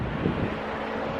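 Steady wind buffets the microphone on a high bridge with a low, rushing roar throughout, no voices.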